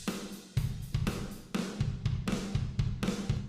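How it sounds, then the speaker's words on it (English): Soloed guitar riff from a song in progress, played as a repeating rhythmic figure of punchy, evenly spaced strums with steady loudness and no voices. "The guitar little riffy part is this."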